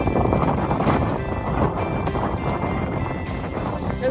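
Strong gusty wind on a Scottish hilltop on the Isle of Skye, buffeting the microphone with loud, continuous rumbling blasts that rise and fall.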